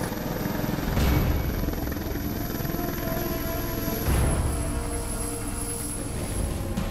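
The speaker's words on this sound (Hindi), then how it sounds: "ये ध्रुव हेलीकॉप्टर इस टीम को उस जगह तक ले जाएगा" An Indian Army Dhruv helicopter in flight, its steady rotor and engine drone continuous and fairly close, with two swelling whooshes as it passes, and no talking.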